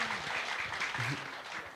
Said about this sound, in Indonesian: Maka tepuk tangan untuk Bapak Uskup.